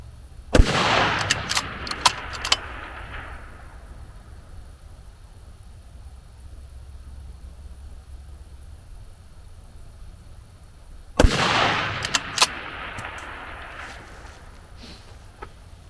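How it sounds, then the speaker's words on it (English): Two rifle shots fired outdoors in fading dusk light at targets, spaced about ten seconds apart. Each is a sharp, loud crack followed by a brief echoing tail and faint clatter against a quiet background. "I'll go ahead and take a few shots and we'll talk about it."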